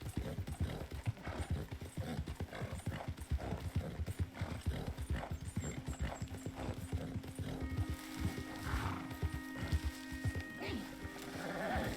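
Horse hooves clip-clop in fast, rapid succession in the Red Dead Redemption video game, followed by a whinny and a few animal bleats over a busy, fairly quiet mix of game sounds, with people talking.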